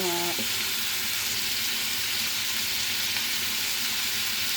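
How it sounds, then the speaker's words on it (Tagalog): Shrimp sautés in a hot pan with a loud, dense, continuous sizzle that stays even for several seconds, with no talking. "Nagisa ako ng hipon langga"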